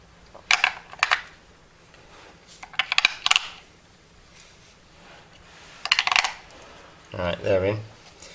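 Several short clicking, clattering bursts of batteries being pushed into a small plastic doorbell camera ringer, spaced apart, ending with a snap of a cover closing.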